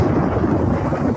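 A thunderstorm effect rumbles in a roofing commercial about spring and summer storms in the Ozarks, low rolling thunder over a wash of rain, loud and continuous.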